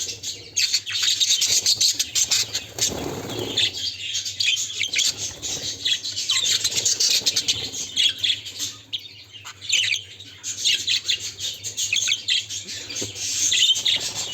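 Baby birds in a nest chirp and squawk constantly while being hand-tamed. The chirping is loud and close, with dense overlapping calls that go on for the whole stretch, and no one speaks.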